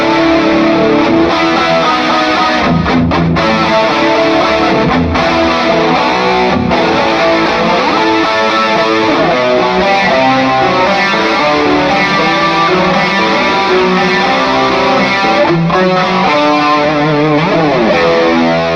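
High-gain distorted electric guitar through a Fractal amp modeler, gain cranked for a heavy rock tone, playing loud and continuous riffs with dense saturated chords for the whole stretch, no voices.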